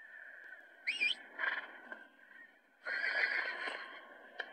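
Horse in the video game West Fighter neighing when called, two short whinnies followed by a longer, louder neigh over a quiet game background hum.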